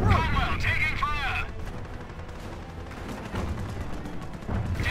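Gunfire and artillery in a Company of Heroes: Opposing Fronts battle during the Liberation of Caen, heavy continuous battle noise with dense repeated shots and rumbling blasts, fading slightly midway, with voices speaking over parts of it.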